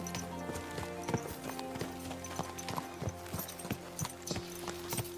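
Horse hooves clip-clop at a steady walking rhythm while riding through a town in Kingdom Come Deliverance 2, close and continuous over ambient game sound, with an occasional faint whinny.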